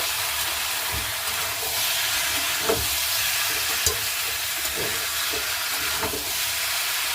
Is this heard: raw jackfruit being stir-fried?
yes